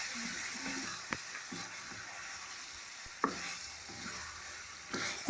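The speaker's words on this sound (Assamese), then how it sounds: "ঢাকন আঁতৰাই মাংসখিনি ভালকৈ লৰাই লৈছোঁ" Chicken pieces for a gravy are stirred in an uncovered pan under a soft, faint sizzle, with occasional clinks of the spoon against the metal.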